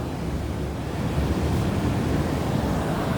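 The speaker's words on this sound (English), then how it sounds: "So here you can see the water's coming in" Water rushes swiftly into a canal lock beside a boat, a steady, loud, even wash and roar that holds constant throughout with no talking.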